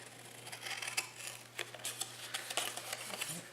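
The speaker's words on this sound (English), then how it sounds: "Just going to cut straight up." Scissors cutting straight up along a score line on a paper tealight box, giving a series of close, crisp snips and rustles with a steady low hum underneath.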